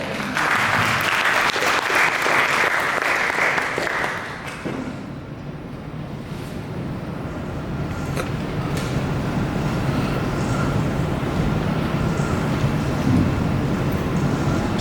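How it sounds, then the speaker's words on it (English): An audience in a hall gives a round of applause for a speaker walking to the stage rostrum, a dense, steady wash of clapping that fades down partway through and carries on with a murmur underneath. "A round of applause."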